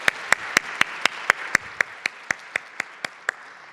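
At a women's leadership conference, steady rhythmic clapping rings out as around fifteen evenly spaced, crisp claps close by, rather than a full crowd's wash of applause.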